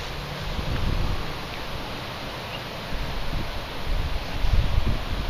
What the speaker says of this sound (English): Very stiff wind here today in Charlotte.